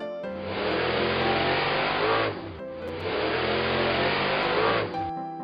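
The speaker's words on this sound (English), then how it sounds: "Monster Jeep." Two strong Jeep engine revs in succession, each a sustained close roar that drops off sharply before the next one builds again.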